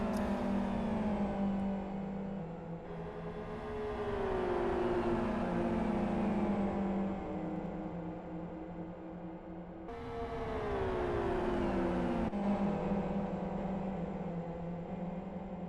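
Several GT2 racing cars in the Live for Speed simulator roar continuously at close range, engines rising and falling through gear changes with a steady high whine, loud and without talk.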